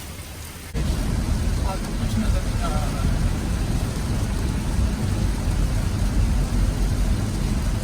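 Heavy rain pours on a car driving along the Sialkot–Lahore motorway, a steady dense wash of drumming water and road rumber that stays loud and continuous after a brief quieter start, with no clear talk over it.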